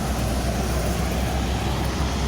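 A Lorena intercity bus on the Jakarta–Pekanbaru route passes along the road, a moderate, steady roadway rumble with no voices.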